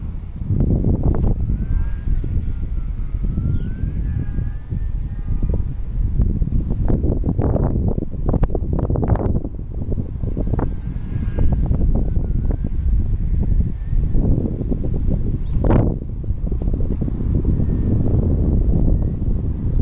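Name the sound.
strong wind on microphone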